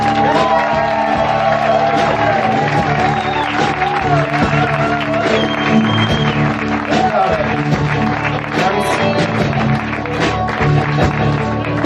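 A concert audience applauds, cheers and whoops for the keyboard player in a loud, continuous crowd roar that lasts throughout, with shouting voices on top.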